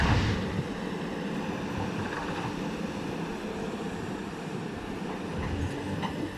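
A SANY SY245H excavator with a Mitsubishi six-cylinder engine runs on a rock-prying job, giving a steady, dense mechanical rumble that holds at an even level throughout with no talk.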